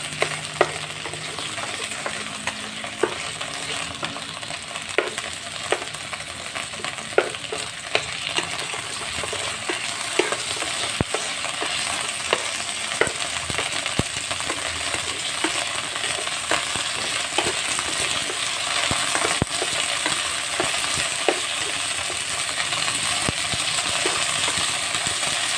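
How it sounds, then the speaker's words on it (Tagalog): Potatoes and carrots frying in hot oil make a loud, continuous sizzle with scattered sharp crackles and pops throughout, and no voices. "mainit na yung ating mantika. So lagay na natin yung ating patatas at carrots"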